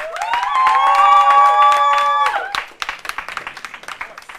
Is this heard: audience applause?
yes